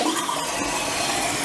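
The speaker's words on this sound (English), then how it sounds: "And it does. It's flushing. It's filling back up. It's pretty noisy." A toilet fitted with a new Fluidmaster universal repair kit flushes and refills, giving a steady, loud rush of water that stays fairly even throughout, with no talk.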